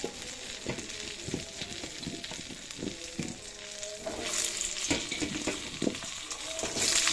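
Nigella seeds sizzling in mustard oil for a fish curry with potatoes and eggplant make a steady crackle punctuated by sharp spits and pops, growing somewhat louder midway.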